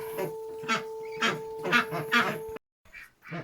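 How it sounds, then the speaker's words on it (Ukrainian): Ducks quacking at a backyard rabbit-keeping spot, a run of about five rhythmic, nasal calls close by over a steady hum, then a short silence and fainter quacks. "качки кричать так"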